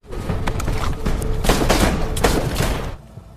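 Rapid bursts of gunfire and booming impacts from a film action scene with an agent shooting men one by one, loud and dense for about three seconds before cutting off abruptly.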